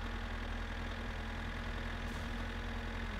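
A tractor engine idles steadily in the My Summer Car video game, a continuous low mechanical drone with a faint rhythmic knock, alone with no voices.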